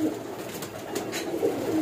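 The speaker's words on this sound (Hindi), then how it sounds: "कबूतर कबूतर जो है ना सारे ही ये देखिए ऊपर" Pigeons cooing softly on a rooftop, a low steady murmur of coos at moderate distance with faint background hiss and no talking.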